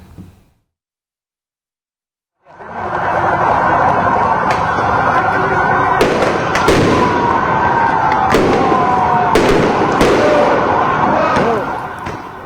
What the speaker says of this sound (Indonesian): menyalakan petasan ke arah dalam kompleks parlemen